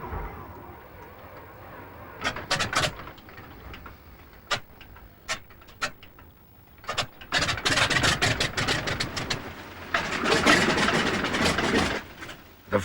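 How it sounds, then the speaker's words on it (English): A Ford Trimotor airliner's center engine cranks and catches, with sputtering bursts and uneven firing that build into a loud, rough, sustained radial-engine roar nearby. "Center engine primed. Ready to start. Center engine."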